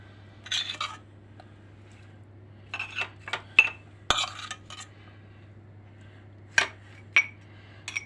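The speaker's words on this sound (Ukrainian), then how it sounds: "Тепер кладемо цибульку з морквою у кожен горшечок." Chopped onion and carrot being placed into small clay pots for stewed potatoes with meat, with scattered light clinks and knocks of utensils against pottery in short irregular bursts over a quiet kitchen hum.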